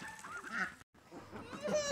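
Goose-like honking from a duck in a garden bed where squash is growing, a few rough calls close by, alone with no talk.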